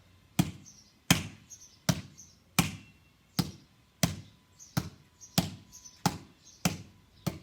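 Hands slapping a basketball as hard as possible during a basketball session warm-up: about eleven loud, sharp smacks land in a steady rhythm under a second apart, close and clear, with no talk.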